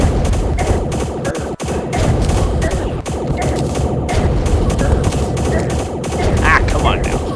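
Rapid gunfire from turrets under attack in modded Terraria, a dense, continuous rattle of shots with crashes and bangs layered through the whole stretch, loud and close throughout.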